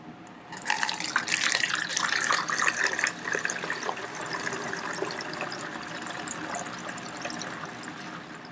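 Water mixed with baking soda and isopropyl alcohol pours through a small funnel, a steady splashing trickle that starts suddenly and then settles into a softer, continuous flow.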